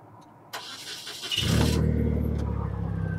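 A propane-fuelled Yale GLP040SVX 4,000 lb forklift engine cranks and catches, then settles into a steady, loud, close idle rumble with no talk over it.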